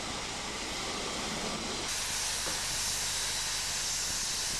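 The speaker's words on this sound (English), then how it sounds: "Departing from the platform, number 5 slips as the powerful locomotive fights for adhesion." A powerful steam locomotive, number 5, pulls away from a station platform, giving off a loud, continuous broadband hiss of escaping steam that surges brighter partway through.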